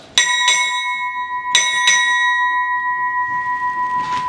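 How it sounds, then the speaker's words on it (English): Ship's bells rung at a Navy change-of-command ceremony as the official party arrives: two pairs of bright, ringing strikes, close and loud, with the tone decaying slowly into the hall. "Bells."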